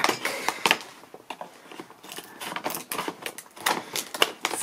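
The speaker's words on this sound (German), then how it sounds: "das ist so gut verschweißt, dass wir da eine Schere brauchen" All-purpose tool scissors snip through tightly welded plastic packaging in a series of sharp, crackling cuts and crinkles, close and irregular with brief pauses between bursts.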